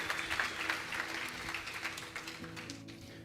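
A church congregation claps in sustained applause that gradually fades toward the end.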